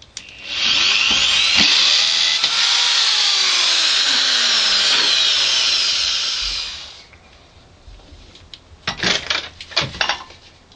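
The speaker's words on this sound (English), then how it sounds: "now I'm just going to use my trusty drill here, just centering it into that little notch that I've made." A power drill bores into a torch casing with a loud, steady high-pitched whine for several seconds, then stops, followed by short clicks and handling noises.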